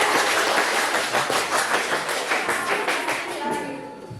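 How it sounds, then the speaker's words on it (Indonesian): A classroom group applauds a student presentation, with brisk, dense clapping that holds steady and then thins and fades toward the end. "Tepuk tangan untuk kelompok 3"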